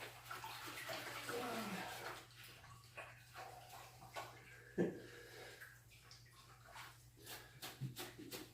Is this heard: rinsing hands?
yes